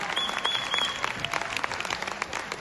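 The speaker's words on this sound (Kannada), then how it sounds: "ಅಲ್ಲಿ ಮತ್ತೊಮ್ಮೆ ಜೋರಾದ ಚಪ್ಪಾಳೆ ಒಂದು ಅದ್ಭುತವಾದ ಪ್ರದರ್ಶನಕ್ಕೆ" Loud, sustained applause from an audience after a stage performance of Arjuna and Babruvahana, dense clapping filling the whole stretch with a faint crowd murmur beneath.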